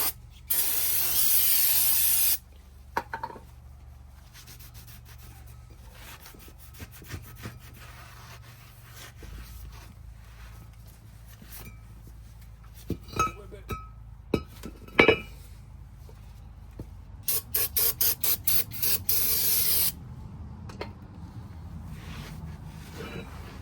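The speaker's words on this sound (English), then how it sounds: "we're just gonna hit this with brake clean, wipe it off, and then hit the front with brake clean" Brake cleaner sprays onto Ford front wheel bearing parts in short hissing bursts at the start and end, with quiet wiping, rubbing and light metallic clinks of the parts between them.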